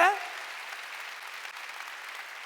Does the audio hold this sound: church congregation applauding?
yes